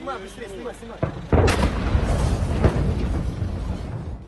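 A missile strike in Pavlohrad, Ukraine: a sudden heavy boom of an explosion, loud and close, followed by a long rumbling roar that fills the rest of the clip.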